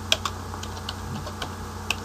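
Computer keyboard typing during order entry in a Visual Basic .NET ordering system, a handful of sparse, faint key clicks spread across a quiet background with a slightly louder tap near the end.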